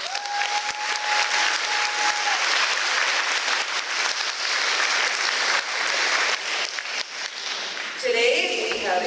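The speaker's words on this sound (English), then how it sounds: "Let's give everyone a big round of applause." A crowd claps steadily and loudly for teachers and staff at a school awards gathering, with a brief tone at the start and a voice cutting in as the clapping fades.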